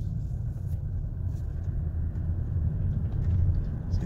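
A Toyota car with a U660E automatic transmission drives along, its engine giving a steady, loud low rumble close by as it runs through the gears.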